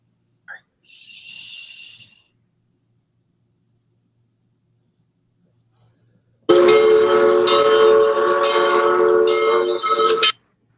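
A loud, sustained train-style whistle blows for about four seconds, a steady multi-tone wail that ends abruptly, after a brief faint hiss and long near-silence.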